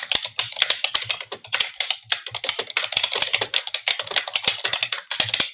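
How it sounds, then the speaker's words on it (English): Rapid, irregular keystrokes on a computer keyboard, close and continuous, clattering steadily for the whole stretch with only brief pauses. "And then we're going to type some directions down here."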